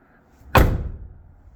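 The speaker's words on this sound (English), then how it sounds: "You close this door and it even just sounds like a brand new vehicle." A single solid door slam on a 1999 Chevrolet Silverado 1500 pickup, a sharp heavy thud close by that decays quickly into quiet.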